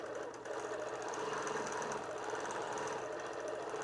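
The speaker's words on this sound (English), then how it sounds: "but now the machine quilts it" A gimbal-mounted quilting machine stitching a quilt in a home studio, giving a steady, continuous mechanical whir and rapid needle chatter at moderate level throughout, with no voices.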